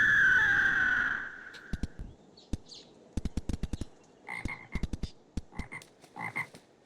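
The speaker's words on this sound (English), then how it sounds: "Where the frogs at? I hear them." Frogs croaking in the video game Minecraft, modded RLCraft: a run of short, clicky croaks repeating irregularly after a fading tonal ambient sound, moderately loud with no talk.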